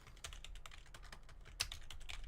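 Keyboard keys clatter in a quick, uneven burst while a lobby code is entered during an online fighting-game session, near but fairly quiet with no one talking.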